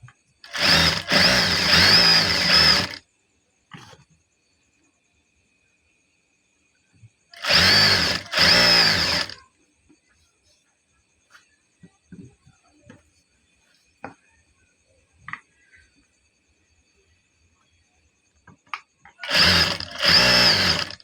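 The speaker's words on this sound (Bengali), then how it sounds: "সেলাইটা দিতেছি এটা কিন্তু এলাস্টিকের উপর তো যাইতেছে না শুধুমাত্র কাপড় দিয়ে যাইতেছে" A sewing machine stitches the fabric of salwar pants in three loud, close runs of a few seconds each, separated by long quiet gaps with faint clicks and handling noises.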